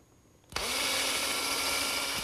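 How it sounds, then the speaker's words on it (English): A power drill pre-drills angled holes for exterior screws in a wooden garden gate, spinning up abruptly and whirring steadily at close range with no talk. "And then I'm going to pre-drill for a couple screws. I'm going to drill down at an angle."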